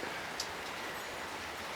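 Gusty rain showers in southeastern Pennsylvania make a soft, even hiss of falling rain, faint and continuous, with a few slightly sharper drops.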